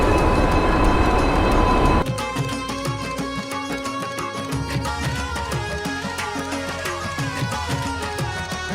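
A passenger train sits at Ahmedabad Junction station, where a loud burst of rumbling noise gives way to a steady hum and rattle. Clanks and tones from the station run under it and no one speaks.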